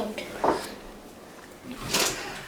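A kitchen drawer slides open and then shut, two short wooden scrapes about a second and a half apart, close by in a quiet home kitchen.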